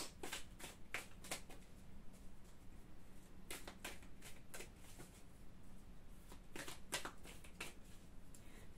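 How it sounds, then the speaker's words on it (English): Tarot cards being shuffled by hand: repeated bursts of crisp riffling and slapping, some quick runs of flicks and some single taps, close and fairly quiet with a faint low hum beneath. "Shuffling these cards on behalf of the collective."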